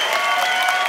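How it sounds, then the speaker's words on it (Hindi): Dense, steady applause from a TV comedy show studio audience, many hands clapping continuously throughout without a break. "ताली मार रहे"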